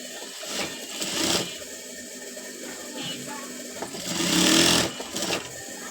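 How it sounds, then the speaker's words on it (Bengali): A sewing machine stitching a hem on a boy's pants whirs in short bursts at moderate distance, with quieter mechanical clicks between runs of stitching. "তো আমি এই নিয়মে আরেকটি হ্যাম সেলাই করে নিচ্ছি"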